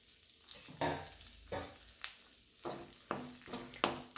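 Semolina roasting in ghee in a pan for a pineapple sheera, stirred with a spoon in repeated scraping strokes about every half second, close and soft with a faint sizzle, no talk.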